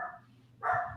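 A dog barks loudly and close, with a short bark at the start and a sharper, stronger bark near the end, separated by a quiet gap of low background hum.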